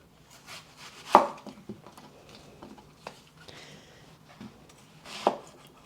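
A knife slices a medium-to-large onion top to bottom on a cutting board, making a few sparse cuts with two sharp, distinct knocks against a quiet kitchen background.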